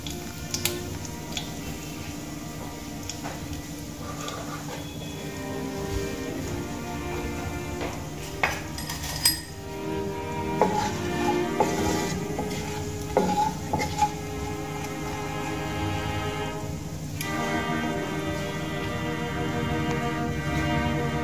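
Broken dried red chillies frying in hot oil in a pan, a steady close sizzle with occasional spoon taps and scrapes against the metal throughout.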